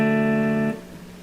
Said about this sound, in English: So in the first measure we would just play the chord straight through.